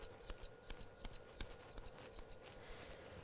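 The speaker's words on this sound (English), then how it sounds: "you can see I'm using curved scissors" Curved grooming scissors snip around a miniature poodle's head in a quick irregular run of crisp, close metallic cuts, a dozen or so over a few seconds with no talking.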